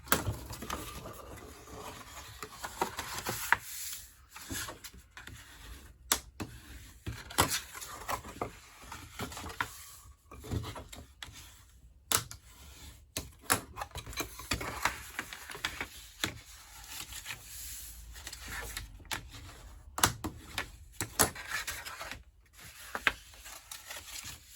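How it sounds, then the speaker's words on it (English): Paper is folded and burnished along score lines for a handmade tie box, a soft, close rubbing and scraping broken by light taps and crinkles, continuing quietly throughout. "we are going to go ahead and fold and burnish all these lines, score lines"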